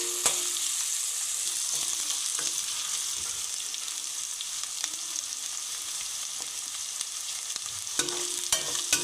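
Green capsicum stir-fries in a pan for capsicum masala rice, with a loud, continuous sizzle broken by sharp clicks and scrapes as the pieces are stirred.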